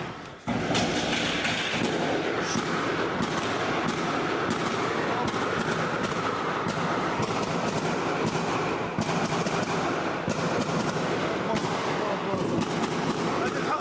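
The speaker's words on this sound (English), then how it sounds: "the gunfire goes on nonstop for another full minute" Continuous heavy gunfire during an attack in a busy shopping mall, dense rapid bursts and booming reports, loud and unbroken for the whole stretch, with some background voices.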